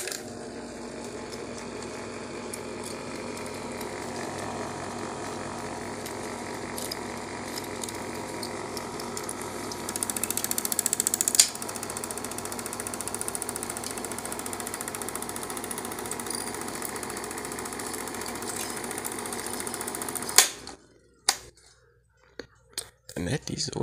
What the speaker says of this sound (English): And that is auto-threading, the most simple thing in existence, compared to manual threading.